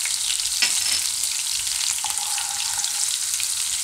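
Red chillies and asafoetida fry in hot oil for a Gujarati banana and fenugreek shaak. A constant bright hiss of sizzling holds nearby with only small fluctuations, and no voices are heard.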